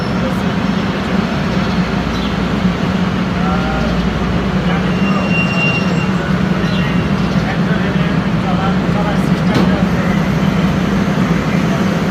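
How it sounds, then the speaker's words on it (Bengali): A train approaches a station in Ilsan, South Korea, with a steady low rumble and droning hum, loud and continuous, amid busy station noise and some faint voices. "আমাদের ট্রেন চলে আসছে"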